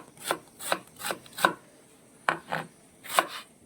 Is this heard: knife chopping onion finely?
yes